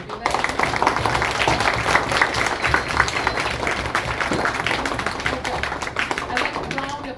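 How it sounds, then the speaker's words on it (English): A youth club audience applauds the staff and volunteers at a laptop award event, dense and lively clapping from many hands sustained at full volume for several seconds before tapering at the end. "another really big round of applause for all the staff and volunteers that come here to Club"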